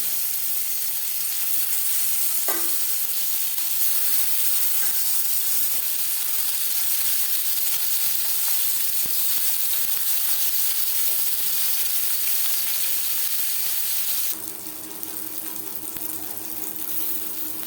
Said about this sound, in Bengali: তিন চামচ রিফাইন্ড অয়েল গরম করে নিয়েছি এবার দিয়ে দেব মাছ